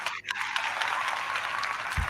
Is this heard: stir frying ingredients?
no